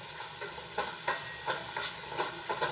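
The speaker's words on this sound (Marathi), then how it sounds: "चांगला असा मसाला परतून घ्यायचा बरं का. कसं तेलात जरा चांगला परतला" Masala sautéed in hot oil for a homemade egg curry, sizzling steadily with rhythmic scraping stirs every half second or so, close and fairly quiet, no talking.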